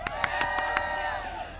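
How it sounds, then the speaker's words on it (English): A Saturday-morning crowd at a people's filibuster rally breaks into applause, steady clapping with some whoops and cheering, fairly loud and close throughout. "Give yourself a round of applause."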